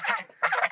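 A goose on a poultry farm gives two short nasal honks, loud and close, with a brief pause between them.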